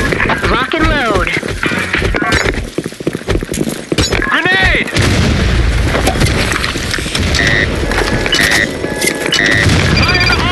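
Gunfire and grenade blasts in a shooter video game crackle and boom under excited voices and in-game callouts, with dense overlapping shots and a heavier explosion about midway.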